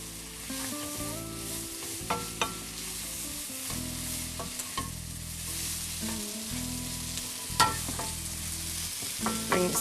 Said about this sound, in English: I'll let my onions and garlic cook a little bit.